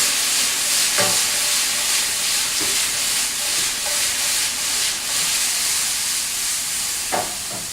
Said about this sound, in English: we're going to be tossing and frying for anywhere between 8 to 10 minutes at high heat.